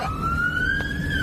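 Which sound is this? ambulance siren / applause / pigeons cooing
ambulance siren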